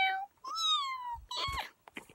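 A person imitates a cat, making two drawn-out meows in a row, each with a falling pitch, followed by a short breathy sound.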